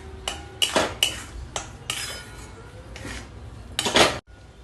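Metal utensil scraping and clinking in a pan while sugar and fresh grated coconut are stirred together for coconut burfi, in several short bursts of scraping with brief pauses, close and fairly loud, no talking.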